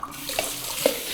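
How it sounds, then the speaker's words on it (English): Water runs steadily into a sprouting jar, a continuous pouring hiss with a couple of small gurgles and splashes along the way. "fill it back up with water"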